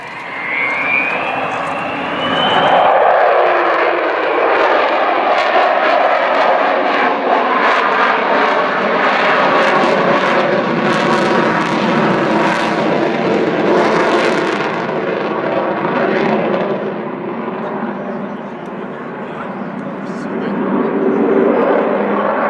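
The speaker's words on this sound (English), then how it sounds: "you can see the power coming on those engines, and he's going to do a spiral climb" Loud roar of a jet bomber's engines swelling as power comes on for a spiral climb at an air show, a sustained rushing drone that stays heavy and close before easing slightly near the end.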